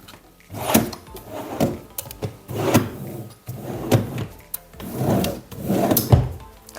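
Wooden drawers in the armrest niche of a Monarch euro-book sofa slide open and shut several times, each stroke a close, rubbing wooden scrape with soft knocks, repeating in an uneven rhythm without talk.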